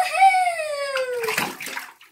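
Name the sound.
ferret splashing in bath water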